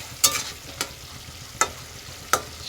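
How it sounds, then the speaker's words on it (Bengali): Curry being sautéed in a pan for a pabda fish dish: four sharp metal scrapes of a spoon, spaced irregularly over a low, steady sizzle, with no voices. "এই যে কষাইতেছে তরকারি"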